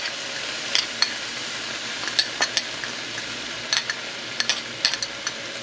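Garlic is stirred into a hot pan of chicken juices for tomato garlic chicken: a soft steady sizzle with repeated sharp clinks and scrapes of a utensil against the pan, close by.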